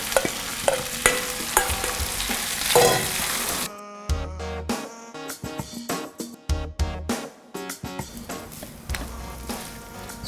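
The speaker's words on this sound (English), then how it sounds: "So you want to break up the lumps and stir it properly so that each grain is nicely coated in the vegetable mix." Rice stir-fried with vegetables in a pan, a steady sizzle broken by repeated scraping and clinking strokes of a utensil, close and alone with no talk.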